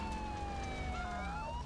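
Police car siren wailing in Grand Theft Auto IV, a steady rising and falling electronic tone that holds loud and continuous over game engine rumble.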